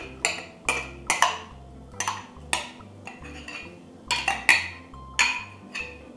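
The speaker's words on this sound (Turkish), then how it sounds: "Şimdi güzelce şöyle sosumu karıştırıyorum." A spoon stirs mustard sauce through boiled potatoes for potato salad, giving a series of clinks and scrapes against the bowl in uneven bursts, close and clear.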